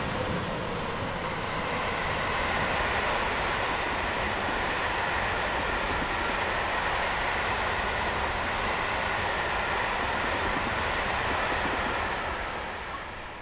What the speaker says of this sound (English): This is a really long train